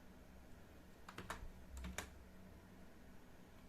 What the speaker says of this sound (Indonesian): Kita ketik su lagi.